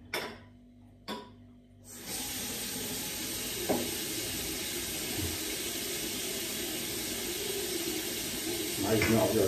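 Tap water runs in a steady, even rush for several seconds after a few short knocks, like a bottle filling under a faucet.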